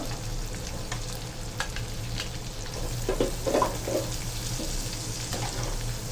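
Capsicum, tomato and onion fry in a pan for an egg vegetable pasta, a soft steady sizzle under repeated spatula scrapes and taps as the vegetables are stirred, fairly quiet and close.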